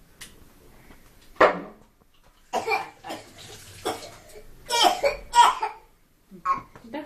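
Sharp coughs ring out in a quiet room, a single loud one followed later by clusters of coughing bursts, mixed with a person talking in between.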